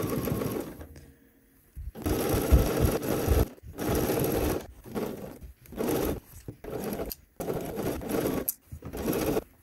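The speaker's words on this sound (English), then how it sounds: "let's go over to the machine and get this neck edge sewn" A sewing machine runs around the neck edge of a bodice at a 5/8-inch seam allowance, stitching in a series of close, loud bursts with short stops between them and no voices.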